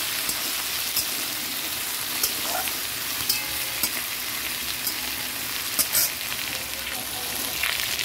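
A whole tomato frying in hot oil in a pan, loud crackling sizzle with scattered pops and occasional scrape-like clicks, steady and close throughout.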